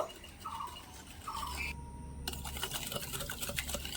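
Semolina biscuit batter is stirred vigorously in a bowl, giving a rapid, rhythmic scraping and churning that runs steadily at close range and grows busier in the second half.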